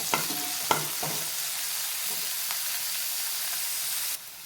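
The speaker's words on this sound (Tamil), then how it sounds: "வெங்காயத்தை சேர்த்துட்டு நல்லா கிளறி விட்டுருக்கேன்" Onion sautéing in a pan for spinach soup hisses with a steady, fairly soft sizzle, with a few stirring clinks and scrapes early on and no voices.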